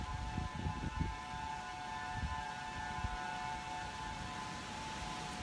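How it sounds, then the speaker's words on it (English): A steady wailing emergency siren tone holds through the whole stretch near Diamond Head, Hawaii, during Hurricane Lane, distant and continuous, with low rumbling background noise beneath it. "I think you can still hear the sirens going off"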